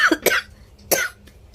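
Two harsh coughs close by from a person with a persistent cough, the first a quick double burst and the second a single strong hack, followed by quiet.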